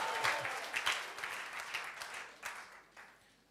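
A worship congregation claps together through a service, dense overlapping hand claps with a few sharper bursts, steady and moderately loud before slowly thinning out.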